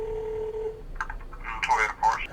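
A telephone dials out to a Toyota dealer for a truck part: a steady dial tone gives way to a quick run of push-button tones, near and clear, with a voice beginning toward the end.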